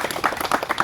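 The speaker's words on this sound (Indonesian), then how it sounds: "Oke, tepuk tangan dulu" A class of sixth-grade schoolchildren claps together at a rural village school event, a brief burst of close, uneven hand claps with no talking.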